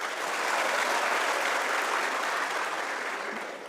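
A lecture-hall audience at a Marathi motivational talk breaks into dense, sustained applause, loud and even throughout before easing slightly at the end, with no speech over it.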